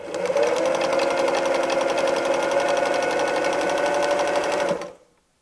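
A sewing machine runs continuously at high speed during free motion quilting, a dense steady whirring hum with rapid needle rhythm for almost five seconds, then stops abruptly into silence.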